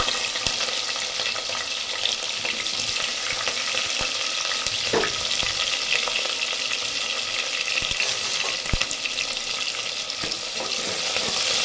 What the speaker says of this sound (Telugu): ఫ్రై చేసుకుంటాం.